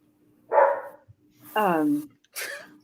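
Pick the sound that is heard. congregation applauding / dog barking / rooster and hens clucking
dog barking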